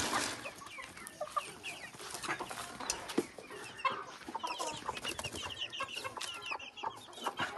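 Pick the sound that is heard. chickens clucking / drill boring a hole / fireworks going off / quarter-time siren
chickens clucking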